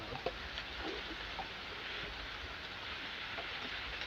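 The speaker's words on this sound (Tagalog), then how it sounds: "lumalakas na po yung ulan" Steady, dense hiss of heavy rain pouring down throughout, with a few faint patters and clicks standing out on top.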